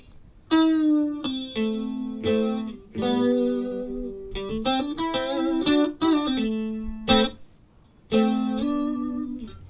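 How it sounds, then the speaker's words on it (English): Electric guitar notes and chords through a Fender Champion 50XL amplifier ring out with a shimmering, wavering chorus effect, played alone with sustained tones and short pauses between phrases. "then you switch over and we're on chorus"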